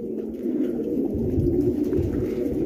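Fancy pigeons coo together in a continuous, close, low throaty murmur, with overlapping calls and no pauses.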